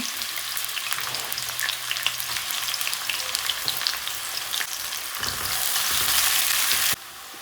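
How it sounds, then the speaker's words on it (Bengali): Chopped onions fry in oil in a pan on a stove, a steady bright sizzle throughout that grows louder near the end, with no talking. "পেঁয়াজটি একটু ভেজে নিচ্ছি"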